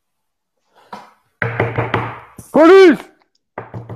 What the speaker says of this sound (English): And there is a knock at his door.